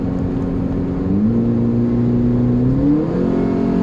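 A remapped 2008 Honda Civic engine pulls steadily under throttle from inside the car, its loud drone climbing in pitch for a few seconds before easing back, with no talking over it.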